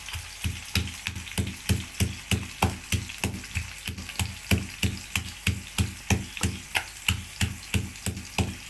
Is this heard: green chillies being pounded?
yes